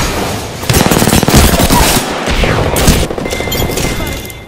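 Close, loud bursts of automatic weapon fire in Apex Legends, rattling in quick rapid volleys with heavy booming impacts, a voice speaking briefly over the shooting.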